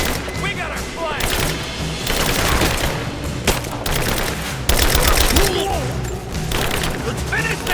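Gunfire during a firefight in the Rise of the Tomb Raider video game, set in abandoned mines, with dense bursts of automatic fire and heavy thumps. Shouting voices are heard over the shots.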